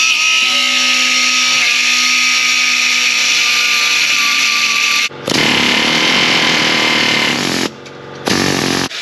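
A pneumatic air tool rattles loudly as it works off a rivet and bolts, in long continuous bursts with a sharp stop and brief pauses before it starts again, close up and with no voices.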